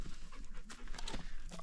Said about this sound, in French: Il y a un chien qui s'est invité aussi dans la danse.